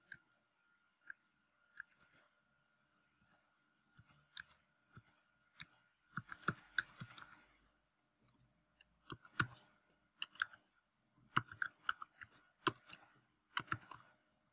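Typing on a computer keyboard while a new patient's surname and first name are entered into dental clinic software, with bursts of soft clicking keystrokes in irregular clusters, close and clear, without talk.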